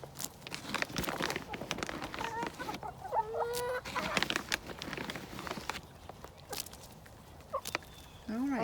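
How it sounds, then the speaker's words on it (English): Backyard chickens cluck and cackle close by, a busy overlapping chorus of short calls with scratching and rustling underneath, and a person talks softly among them. "Spoiled, rotten little chickies."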